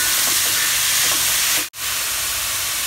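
Chopped beetroot and onion with curry leaves sizzle in a hot pan as they are stirred for Kerala beetroot thoran, a loud, steady frying hiss that cuts out briefly.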